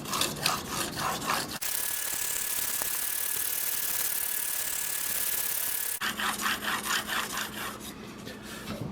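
A Swacker 252 broadhead is rubbed on a diamond sharpening plate. Rhythmic rasping strokes at the start and end frame a steadier, hissing grind in the middle, close and moderately quiet.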